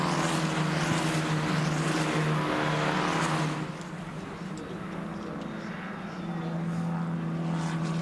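SMP Formula 4 race cars approach the sixth corner at the Pärnu circuit, a steady loud engine drone with rising and falling passes, softening briefly midway before building again, with a voice faintly in the mix.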